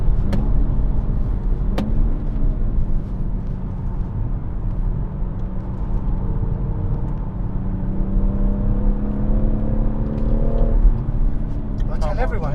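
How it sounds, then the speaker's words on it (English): A BMW M140i engine drones steadily on the Goodwood circuit, a loud continuous low hum with rising pitch sweeps as it revs through the gears, heard from inside the car. "It doesn't sound like you're hurting the engine, do you know what I mean? No, It's not like, no, and it keeps pulling. It's really revvy."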